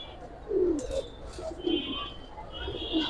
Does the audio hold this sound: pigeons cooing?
yes